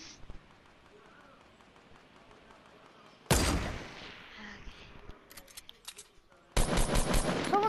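Fortnite gunfire comes in two loud sustained bursts of rapid shots with a few scattered single cracks between them, over quiet game ambience and background talk.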